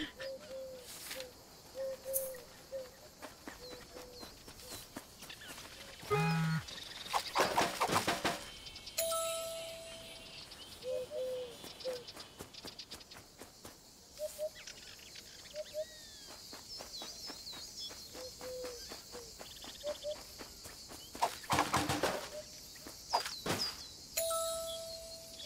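A bird calling outdoors, short repeated cooing or chirping notes scattered across the clip amid clattering, footsteps and handling noises, fairly faint and distant, with no talking.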